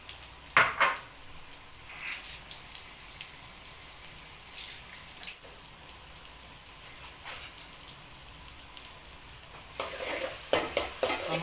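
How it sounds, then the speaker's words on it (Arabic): Onions for koshari fry in a pot, a continuous soft sizzle broken by occasional spoon scrapes and stirring knocks, louder bursts near the start and end, no speech. "نقلب البصل كده لحد ما نلاقي ابتدى ايه يدبل"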